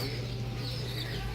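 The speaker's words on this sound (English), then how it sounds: "see if they have any baby chicks because I want to get some more chickens" Baby chicks in a farm store, a steady mass of soft peeping and clucking from many birds under a constant low hum of the room.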